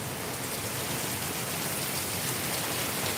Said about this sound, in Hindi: देखिए वर्षा फिर चल रहा है।